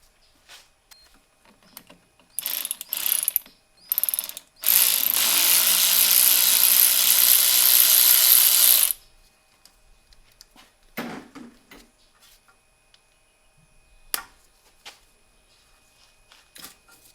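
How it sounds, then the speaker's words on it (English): Ratchet and hand tool work on a Torx bolt holding a brake sensor on a Mercedes SLK32 AMG brake upgrade, with scattered clicks and taps, then a steady four-second burst of fast ratcheting, followed by a few faint knocks. "I'm going to break it loose by hand, and then grab my ratchet"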